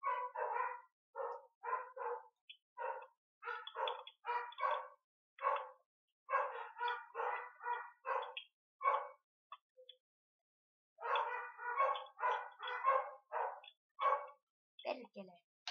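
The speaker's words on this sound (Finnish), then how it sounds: "Vitsi noi koirat haukkuu." Dogs in the Minecraft video game bark in quick bursts of several yips each, separated by brief silences, fairly close and clear.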